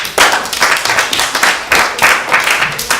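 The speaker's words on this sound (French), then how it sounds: "On va applaudir." A small group, likely children at a French animation session, claps in a brisk, uneven burst of applause that swells and repeats across the clip, close and fairly loud.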